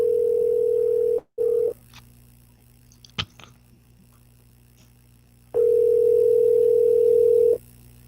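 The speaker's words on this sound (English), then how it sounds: "Can you hear that ringing, Tila?" A phone call's ringback tone sounds as a steady electronic tone, then cuts off, with a quiet gap holding faint clicks. Another long ring follows, loud and close, with no speech.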